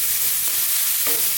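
Vegetables and fresh curry leaves fry and sizzle steadily in a pan over fairly lively heat for a mixed vegetable Indian curry, with a couple of short scraping stirs breaking through the constant hiss.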